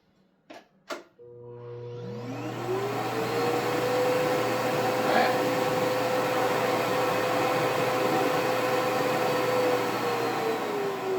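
New-old-stock Riccar Impeccable canister vacuum cleaner, stored unused for about 13 years, starts after two sharp switch clicks, its motor whine ramping up in pitch before settling into a loud, smooth, steady drone nearby.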